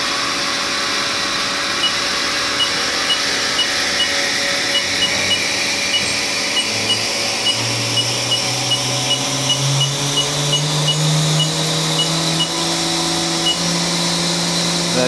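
The spindle of a Haas VM2 CNC mold maker vertical machining center spins up around 4,000 RPM, a loud steady whir with rising tones stepping higher across the stretch, faint regular ticks beneath and no talk.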